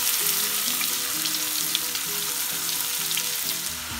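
Onions and green chilies frying in hot oil in a pan, a steady bright sizzle with light crackles throughout, close, over a faint low musical background.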